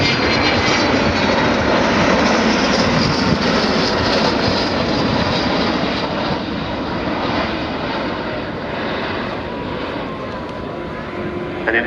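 An Avro Vulcan XH558 delta-wing bomber flies at Yeovilton Air Day 2014, its jet engines a loud, continuous broadband roar that fills the whole stretch and eases slightly toward the end.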